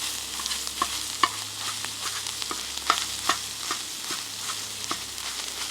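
Sausage crumbles frying in a pan at a campsite for sausage gravy, a steady soft sizzle broken by repeated scraping and stirring clicks, close and moderately quiet, with no talking.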